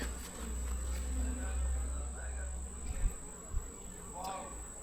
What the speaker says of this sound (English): There are bees solid on these 2 frames.